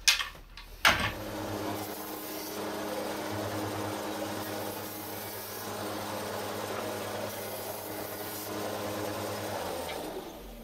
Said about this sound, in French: Vous voyez, le moteur s'arrête vraiment super vite.